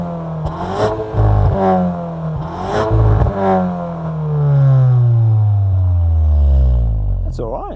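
Exhaust of a VW Arteon R Shooting Brake revving from behind while stationary, loud blips rising and falling, then a long sweeping climb toward the red line and a drop, close and dominant.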